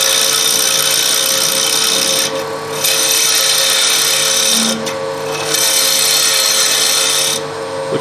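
Wood lathe turning a wooden finial spindle, a steady whirring tool rub with bright scraping that pauses briefly three times, loud and close.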